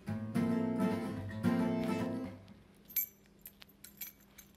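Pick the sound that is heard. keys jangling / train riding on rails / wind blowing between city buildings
keys jangling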